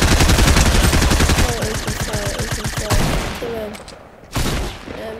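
Gunfire in the video game Fortnite: dense rapid bursts of shots, loud and close at first, then thinning into scattered cracks, with brief voice sounds mixed in.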